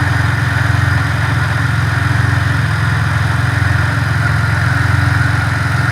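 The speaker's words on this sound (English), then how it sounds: "That's the compressor turning on, so it looks like it worked." A car's engine idles steadily with its air conditioning compressor running, a constant low, even hum and rumble close by, with no voices over it.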